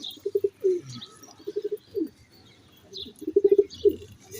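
Black-faced pigeons of a rare breed coo nearby in repeated rolling bursts of soft, throaty, pulsing notes, with short pauses between the groups.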